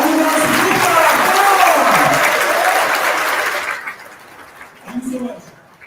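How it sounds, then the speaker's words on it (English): Applause and cheering from an audience greeting a speaker, Bhanudas Gupta, at a student job-readiness launch event, dense and sustained for several seconds before thinning out, with a few voices and laughter mixed in. "How do we clap for Bhanudas Gupta?"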